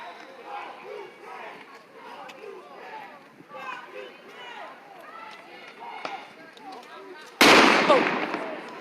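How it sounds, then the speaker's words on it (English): Police fire pellet rounds at protesters on a city street, a single sharp, loud bang near the end. Before it, a distant crowd shouts and talks continuously. "those are them firing pellets at us again"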